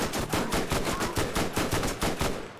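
Rapid bursts of explosive-weapon gunfire from the Borderlands video game, a dense, loud string of sharp repeated blasts at an even rhythm lasting the whole stretch with no talk.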